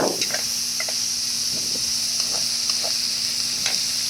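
Half-cooked pork belly frying with garlic, onion and shrimp paste for binagoongan, a loud continuous sizzle with scraping stir strokes of a utensil across the pan.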